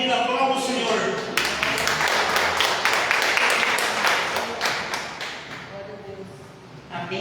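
A church congregation applauds during a service, a wash of many hands clapping that swells in the middle and fades away toward the end, with voices under it.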